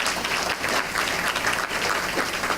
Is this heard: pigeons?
no